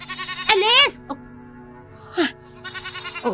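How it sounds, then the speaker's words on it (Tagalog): Goats in a pen bleat in loud, wavering cries close by, with a long call first and a shorter one later. Quieter stretches and a voice fill the gaps between them. "Nag-iingay ang mga kambing."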